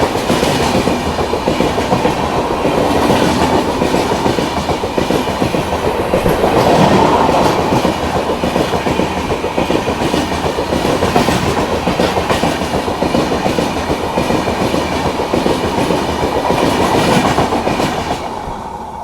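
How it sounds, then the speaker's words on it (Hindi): The Trivandrum Rajdhani train overtakes the Mandovi Express on Indian Railways: a loud, steady roar of passing rail cars with continuous clickety-clack wheel rhythm, heard close and sustained throughout. "Trivandrum Rajdhani overtaking Mandvi express."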